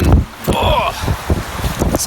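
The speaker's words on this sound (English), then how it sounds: "It's very windy." Wind gusts buffet the microphone with a steady low roar on Kingscote Jetty in the evening beside choppy water, while a voice talks over it.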